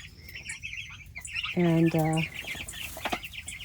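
A hen clucks loudly up close in a short burst, with birds chirping and twittering in the background.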